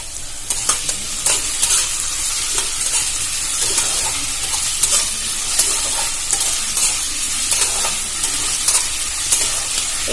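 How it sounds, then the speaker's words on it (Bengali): Chopped potatoes fry in hot oil in a pan for a Bengali flattened-rice pulao, with a steady close sizzle broken by repeated scraping and stirring strokes throughout. "আমি এগুলো খুব ভালো করে ভেজে নেব, যেন এখানেই সেদ্ধ হয়ে যায়"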